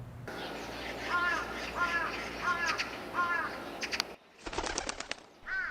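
A flock of crows circling over a municipal household waste dump in Daejeon, with repeated harsh caws in a loose rhythm at moderate distance, several calls overlapping, amid faint background noise.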